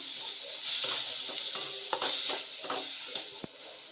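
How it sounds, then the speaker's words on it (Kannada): Onion and tomato frying in a pan, a steady sizzling hiss broken by scattered scraping stir clicks, close and moderately loud with no talk. "ಈಗ ಟೊಮೆಟೊನ ಹಾಕೊಂಡು ಚೆನ್ನಾಗಿ ಫ್ರೈ ಮಾಡ್ಕೊಳ್ಳೋಣ"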